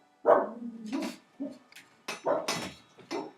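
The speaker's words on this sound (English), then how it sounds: "Excuse the barking dog." A dog barks and yips several times in an irregular run, fairly close and loud, some barks drawn out into whiny tones.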